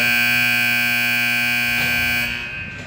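Arena buzzer ending a period of a peewee ice hockey game, a loud, steady, sustained electronic tone that holds for nearly three seconds before easing off.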